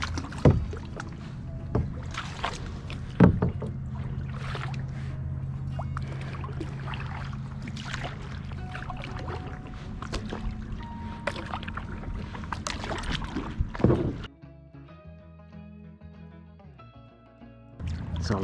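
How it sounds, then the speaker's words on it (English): A kayak is paddled across water: repeated splashing strokes and dripping at an uneven rhythm, close by, with the water sounds thinning out near the end; no talking. "Was not expecting how hard it is to paddle"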